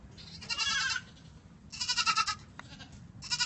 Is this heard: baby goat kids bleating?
yes